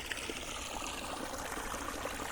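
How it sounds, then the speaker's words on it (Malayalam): Irrigation water runs along a farm channel cut from a stream two kilometres away. It makes a faint, even trickle and soft gurgle with no talking. "ഇത് അങ്ങ് രണ്ട് കിലോമീറ്റർ ദൂരമുള്ള തോട്ടിൽ നിന്ന് ചാലെടുത്താണ് വെള്ളം എത്തിക്കുന്നത്"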